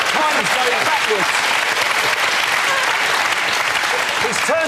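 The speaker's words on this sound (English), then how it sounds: "Now, I'll say anything to get a round of applause." Studio audience applause at a radio panel comedy show, a steady loud wash of clapping hands filling the whole stretch with no pauses.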